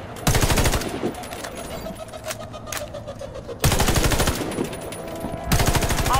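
Automatic gunfire rattles in loud, rapid bursts at a target in the shooter game Warface. Long volleys are broken by a quieter gap with a few single shots.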